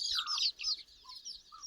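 A red hen clucks in a few short, high, fluttering calls, fairly faint and close, with nothing else around it.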